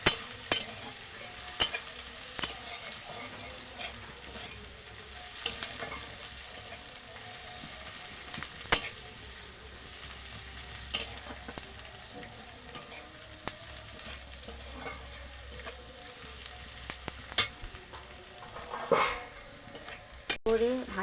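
Chopped onion and green chilli fry in a pan with a steady, soft sizzle, punctuated by scraping stirs and occasional sharper clinks of the spatula, close by and fairly quiet, with no talking.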